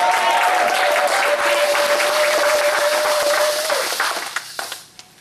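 A congregation applauding in a church, with dense sustained clapping that fades out over the last second into a few scattered claps, and a held tone running beneath it for the first few seconds.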